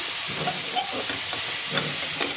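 Milk poured into a pan of washed, fried carrots, giving a steady steamy hiss and sizzle with a few faint splashes, close and continuous with no talking.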